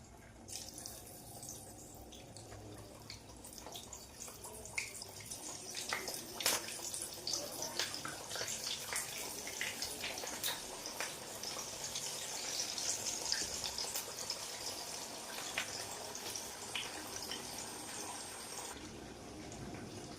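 Egg and dried bean vadas frying in hot sunflower oil in a kadai, a continuous bubbling hiss with scattered crackles and pops throughout.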